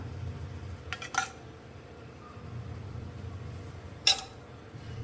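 A pan goes onto a stove and a spoon adds oil while a samosa stuffing is being cooked. Two sharp metallic clinks stand out, one early and one later, against a quiet low kitchen hum, with no speech over them.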